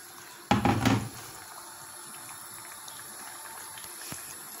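Water pours briefly into a pot of zucchini, a short splashing burst of about half a second that then gives way to quiet room background.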